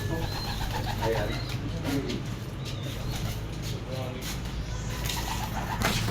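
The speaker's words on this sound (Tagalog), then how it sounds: "ito mga ibon ni Gabenjo" Pigeons in a loft give low, repeated coos at close range, accompanied by rustling and other bird calls, while people talk softly in the background.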